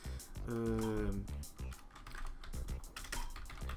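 Clicky typing on a computer keyboard during a text-tool lesson in video editing software, rapid keystrokes close by, overlapped at the start by a brief voice.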